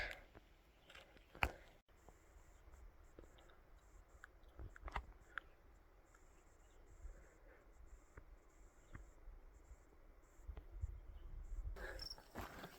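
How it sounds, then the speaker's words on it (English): Evening crickets chirping in a canyon near thermal areas along the Seven Mile Hole trail in Yellowstone, a faint steady high trill running throughout under soft outdoor rustling and occasional sharp handling clicks. "The evening cricket's starting up."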